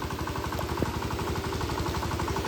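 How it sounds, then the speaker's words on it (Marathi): A tractor engine works a rainy field, chugging in a steady, fast rhythm at moderate distance, with one brief sharp click partway through and no talking. "आता त्या 2 ट्रॅक्टर लावतात ते बघा."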